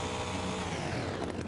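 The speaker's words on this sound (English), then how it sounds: "I found a hack for locking the throttle on in the chainsaw." A chainsaw runs with its throttle locked on in Farming Simulator 25 during land clearing, a steady, loud, buzzing engine whine held at constant pitch throughout with no talk.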